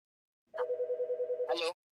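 A phone call rings as one burst of rapid pulsing tone lasting just over a second, close and clear, with a short voice at the very end.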